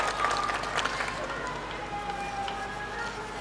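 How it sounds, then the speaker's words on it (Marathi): Audience applause welcoming Pasha Patel at a political speech gathering, a dense steady clatter of clapping through the whole stretch, with faint voices mixed in. "त्यांच्यासाठी आपण जोरदार टाळ्या वाजवून त्यांचं स्वागत करावं."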